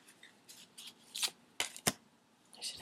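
A psychic tarot deck is shuffled by hand, with soft riffles and several sharp card snaps, close up and quiet with no talk.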